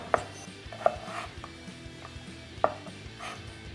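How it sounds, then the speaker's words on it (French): A knife slicing squash into 5 mm slices on a board, three sharp separated chops over a quiet kitchen background, nearby and alone. "On va couper des tranches environ de 5 mm d'épaisseur."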